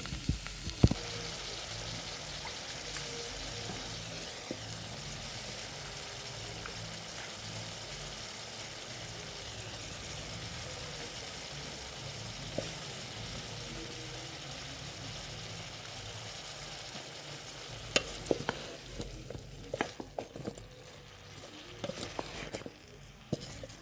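Cabbage fries in a pan over golden-brown onions, a faint, steady sizzle that runs on quietly, broken by a few sharp utensil clicks and taps near the end.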